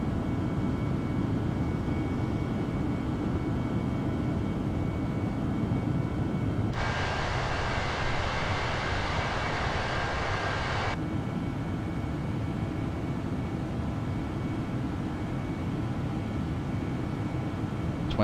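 An Airbus A318-100 cruises near flight level 310 between Bilbao and Porto in Microsoft Flight Simulator 2020, a steady, loud, low cabin drone with a brighter hissing rush swelling in for a few seconds midway; no voices.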